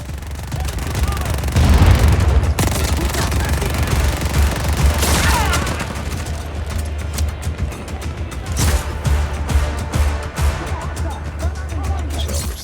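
Gunfire and explosions fill the action video game Just Cause 4, with dense overlapping shots and booming blasts under a steady engine-like rumble, loud and continuous throughout.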